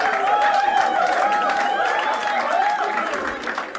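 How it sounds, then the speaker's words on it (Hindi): Stand-up comedy audience clapping and laughing, a steady mass of applause with crowd voices mixed in, holding at a fairly even level throughout. "आप तालियां पीट रहे हो"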